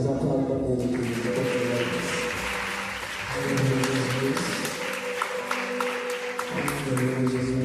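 Church congregation applauds God during a worship service, a steady wash of clapping beneath sustained music and voices, full and continuous throughout.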